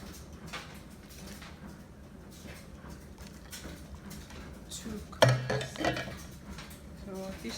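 Dough mix is worked in a bowl with a mixing tool, giving soft scraping and a few clinks against the bowl and one sharper knock, faint and close, as a voice talks over it.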